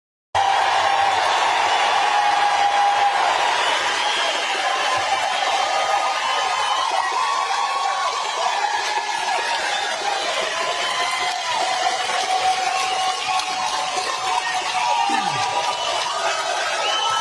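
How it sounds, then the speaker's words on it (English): A large crowd at a political rally for a Maine candidate makes a sustained, roaring wash of noise with applause and cheering. It stays loud and dense throughout, with no voice standing out clearly. "So a lot of applause."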